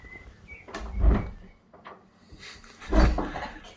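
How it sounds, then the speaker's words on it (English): Heavy, very old wooden door of a pub dating back to 1350 being pushed open: two low, dull thuds with creaking scrapes, close by, with no talking over them. "Heavy door."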